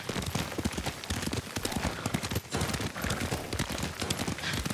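Horse hooves gallop in the Ghost of Tsushima video game, a rapid, steady clip-clop that is loud and close and runs throughout without any speech.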